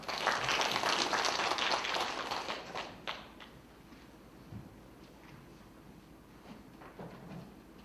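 An audience at a Busan public health results conference applauds a presenter; fairly loud clapping for about three seconds, then fading to a quieter room tone with scattered faint sounds.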